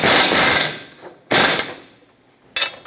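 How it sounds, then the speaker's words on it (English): A 32mm socket on a ratchet tightening an EGR tube adapter fitting on a Ford E-350 exhaust manifold, with three loud, close bursts of ratcheting clicks separated by short pauses. "take a 32mm socket and just make it nice and tight"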